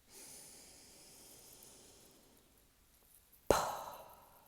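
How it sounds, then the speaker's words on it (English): A single sharp breathy exhalation, a forceful puh of air let out after a quiet deep inhale during a calming breathing exercise, close and alone with no talking. "with an audible puh sound, you're going to breathe out"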